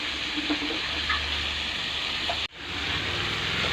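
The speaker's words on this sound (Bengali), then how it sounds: "মশলাটা কষানো হচ্ছে, আলু দিয়ে আর আদা আর জিরে দিয়ে কষানো হচ্ছে।" Potatoes with ginger and cumin paste sauté in a pan for fish curry, making a continuous close sizzle and watery hiss that cuts off abruptly for a moment before resuming.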